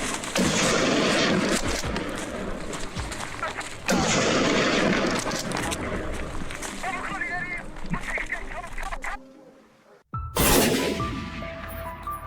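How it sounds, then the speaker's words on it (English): Rifle shots ring out during a wild boar hunt on a mountainside, with a few sharp, loud blasts spaced several seconds apart, each echoing through open terrain, mixed with outdoor noise and some voices. "Every gunshot echoed sharply through the wilderness, each one a fast, clean, surgical takedown."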